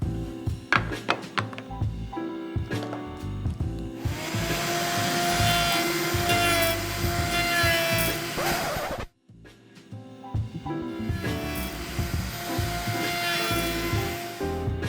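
A router with a chamfer jig cuts into the end grain of wood, first a few brief bursts, then a loud sustained whine and chatter of cutting that stops sharply and resumes, with no talking.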